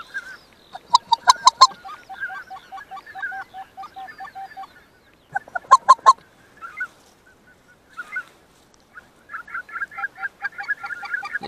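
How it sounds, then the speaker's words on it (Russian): A flock of wild bean geese calling while hunters wait for them, with loud, clear honking in rhythmic bursts and overlapping calls rising and falling, plus stretches of fainter calls between the louder bouts. "это гуменники."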